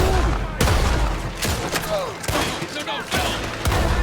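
Gunfire from Red Dead Redemption 2, a rapid volley of sharp, loud shots with brief echoing tails, firing in quick bursts across a few seconds, with a voice speaking in between.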